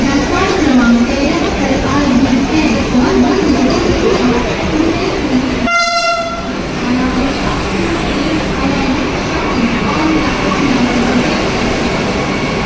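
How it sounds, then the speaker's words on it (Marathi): The 12051 CST to Madgaon Jan Shatabdi Express pulls into a crowded Dadar station, a loud steady rolling rumble with a short high tonal burst midway amid platform bustle. "फायनली आपली ट्रेन आलेली आहे दादर स्टेशनला"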